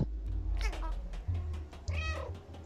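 A cat meowing in the video game Stray, several drawn-out, rising and falling meows heard close over a steady low background hum, with no one talking.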